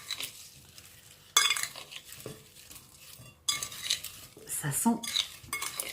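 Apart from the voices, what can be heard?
stirring roasted vegetables with olive oil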